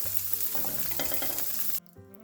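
Fish fries in a skillet with a steady, close hiss and crackle of hot oil that drops off sharply near the end, leaving only a faint sizzle.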